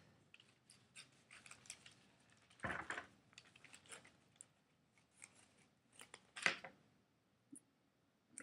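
Scissors snipping green newspaper for basket weaving, a series of quiet, close, crisp cuts in an irregular rhythm with two louder snips standing out, and no talk.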